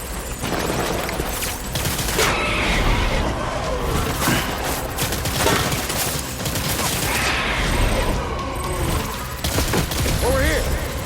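Heavy gunfire in the video game Death Stranding's Vietnam battle, with dense bursts of rifle and machine-gun shots, loud and continuous across the scene alongside shouting soldiers and booming impacts.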